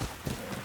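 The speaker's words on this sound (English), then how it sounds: "Oyuki's horse." Horse hooves clip-clopping in Ghost of Yōtei as Oyuki's horse stands outside the Red Crane Inn; a short, faint burst of soft hoof clops against a low ambient bed, with no talking.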